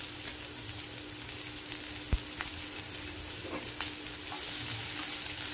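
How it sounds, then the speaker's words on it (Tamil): Onions frying in a pan until golden, a dense steady sizzle with a few sharp crackles and a stirring knock, close and fairly loud with no talk. "நல்லா கொஞ்சம் பொன்னிறமா வறுக்கறதுங்க வெங்காயம்"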